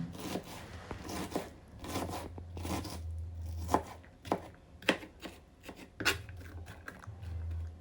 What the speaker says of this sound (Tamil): 1/2 வெங்காயத்தை நல்லா சிறுசாக வெட்டி சைடில் வச்சுக்கலாம்.